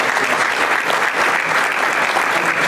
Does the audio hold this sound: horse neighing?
no